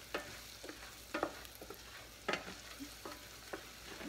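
Chicken pieces and onions frying in a pan, a soft low sizzle broken by several scraping stirs of a utensil at irregular intervals, quiet and close, without speech.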